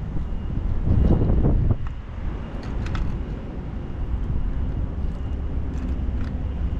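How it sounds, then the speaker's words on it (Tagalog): Strong wind buffets the microphone on an island shore, a loud gusting roar for the first two seconds, then a steady rushing blow with faint higher rustles. "Kasi malakas yung hangin dito."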